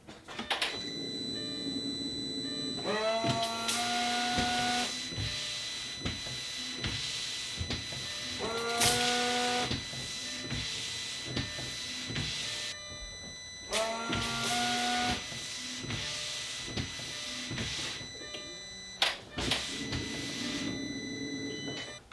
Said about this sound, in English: forgive some of that weird staticky sound. The radio was on for some reason.